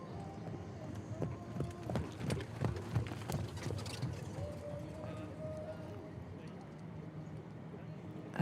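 Big, scopey horses of a four-in-hand carriage trot at a FEI Driving European Championship cones round, hooves clip-clopping in a steady irregular patter over a crowd and commentary murmur.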